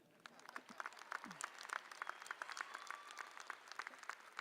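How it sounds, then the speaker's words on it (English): Scattered, fairly quiet audience applause at a university undergraduate commencement ceremony, individual claps distinct and irregular at a moderate distance, holding steady for several seconds. "That's worthy of applause."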